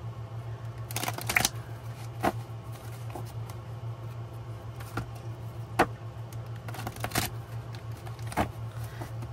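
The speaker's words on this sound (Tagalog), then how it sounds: "Parang gusto ko pa po siyang balasahin." Tarot cards are shuffled by hand close by, a quiet run of crisp riffling clicks and soft slaps at an uneven rhythm over a low steady hum, with no talking.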